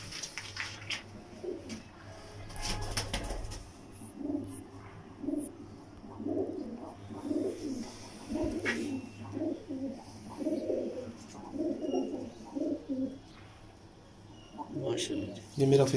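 Pigeons coo in soft, repeated low calls over a steady background murmur, with some scattered knocks early on.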